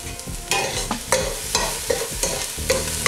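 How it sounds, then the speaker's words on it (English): Onion sautéing in oil in a pan makes a loud sizzle broken by repeated scraping stirs, several distinct sweeps of a utensil across the pan over a few seconds, with no talking. "Saute the onion in the oil for about 5 to 8 minutes or until they are soft and translucent"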